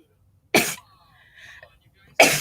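Two sharp, loud bursts a little over a second and a half apart, like a sneeze, separated by faint quiet sounds in an otherwise silent room.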